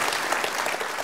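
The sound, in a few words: studio audience applause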